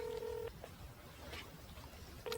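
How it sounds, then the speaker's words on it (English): A phone call's ringing tone sounds faintly through a handset in two short electronic bursts, one at the start and one at the end, separated by quiet room noise. "It's ringing."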